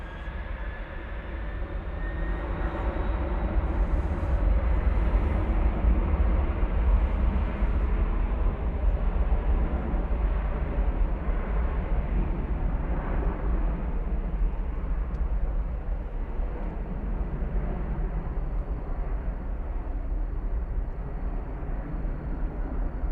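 An American airliner bound for Oakland takes off from runway 18 left at DFW Airport at night, a broad, steady jet roar that swells early and holds for over twenty seconds, distant but loud, with no talk over it.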